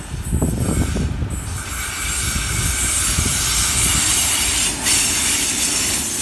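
An MZ class diesel locomotive hauls a loaded freight train bound for Minto, passing close and loud with a steady rumble, rail clatter and high wheel squeal, and no voices.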